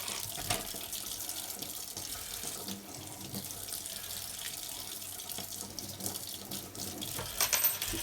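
A kitchen tap runs steadily while a ring is rinsed under it, a continuous splashing hiss with small shifts as the stream hits metal and fingers, fairly close.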